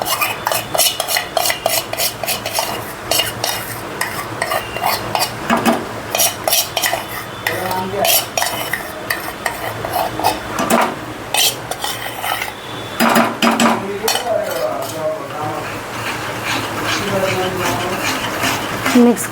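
A spoon stirs besan into one-thread sugar syrup in a pan for masoor pak, giving rapid repeated scraping and metallic clinks against the pan, close and loud, with someone talking over it at times.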